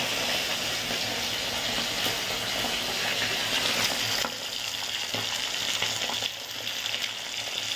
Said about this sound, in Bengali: সর্ষের তেলেই ভাজছি।